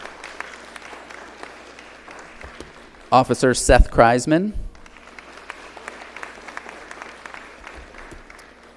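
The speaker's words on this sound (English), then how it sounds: "Can you clap?" Brief burst of audience applause at a school recognition ceremony, erupting loudly for about a second and a half, between stretches of a man reading names over a quiet room.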